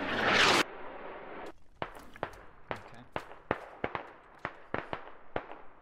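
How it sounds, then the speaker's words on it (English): Smoke mortar barrage in the SquadOps game: a loud rushing blast, then a steady series of sharp distant-to-mid thumps and cracks landing one after another at irregular intervals. "Meanwhile, the smoke mortars."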